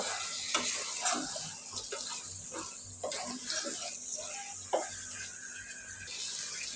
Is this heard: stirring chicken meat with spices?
yes